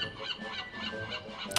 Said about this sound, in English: I can hear some seagulls.